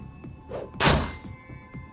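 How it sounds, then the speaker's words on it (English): A grenade in Shadowrun: Dragonfall lands with a single heavy thunk and a short burst of noise, preceded by faint soft taps. "This seems like a good place to toss a grenade"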